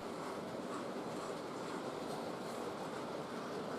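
An LNER V2 Green Arrow model locomotive hauls the Scotch Goods past on a layout, giving a steady, continuous rumble and rolling rail noise throughout with no voices.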